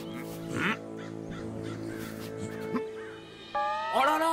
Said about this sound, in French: Mais non, c'est des perdrix sauvages argentés